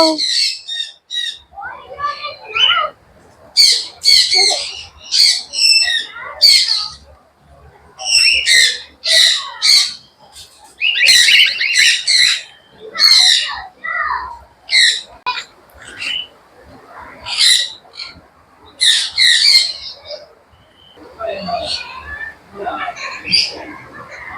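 Birds squawking and calling in a zoo aviary, a dense chorus of shrill, repeated squawks and whistles bursting in clusters throughout, close and loud.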